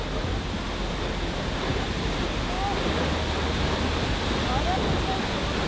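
A large waterfall in Iceland roars as a steady broad rush of falling water, with a few faint bird calls over it and no speech.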